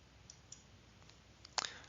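A computer mouse gives a few faint, sparse clicks over quiet room hiss, ending in a sharper cluster of quick clicks.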